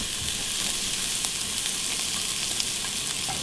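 Shrimp searing in a hot pan gives a constant, moderately quiet sizzle with a fine crackle throughout and no one talking.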